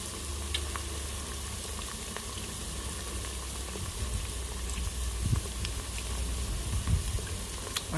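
Ginger slices and scallions sauté in a pot as the base for coconut curried chicken, giving a constant close hiss and sizzle with a few soft stirring knocks toward the end.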